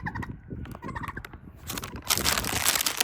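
Turkeys gobbling close by as they are fed spinach treats, a quick series of burbling gobbles followed by rustling and crunching of the greens.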